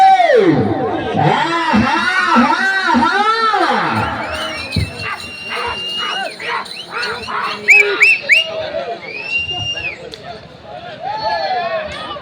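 A crowd at a bull race shouts, whistles and cheers in loud, shifting waves, with excited voices rising and falling throughout.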